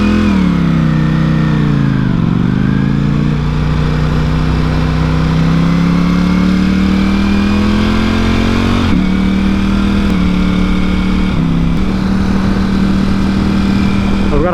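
Engines drone steadily while driving on a road among an Audi R8, a Porsche GT, a BMW M4 and a motorcycle, a loud continuous hum rising and shifting in pitch as vehicles accelerate, with brief gear changes.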